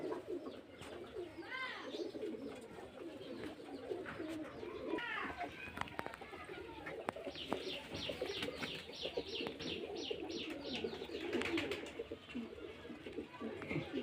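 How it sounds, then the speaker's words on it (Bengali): Murshidabad Giribaj pigeons coo repeatedly in overlapping low throaty phrases, with some faint chirps from other birds nearby. "এগুলো সব মুর্শিদাবাদের গিরবাদ লাইনের পায়রা"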